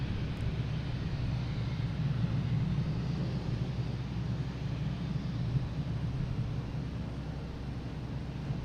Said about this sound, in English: This is that Bombardier Global 6000.